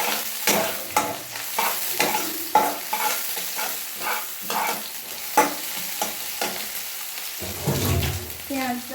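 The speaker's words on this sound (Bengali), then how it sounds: "শুকনো পেঁয়াজগুলো দিয়ে দিচ্ছি।" Dried onions sizzle in a pan while being stirred, with regular scraping strokes repeating about once a second over a continuous frying hiss, close and fairly loud.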